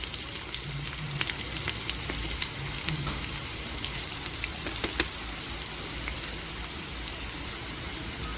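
Spices sizzle with sautéed onion in a pan for chicken biryani, a steady, close, crackling hiss with scattered pops that runs throughout, with no talking.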